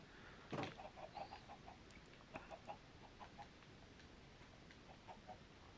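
Chickens cluck softly and repeatedly on a Minecraft chicken farm, short faint clucks in loose clusters, with one brief louder sound near the start.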